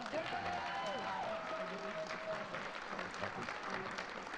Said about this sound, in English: Everyone clap for Chris Moore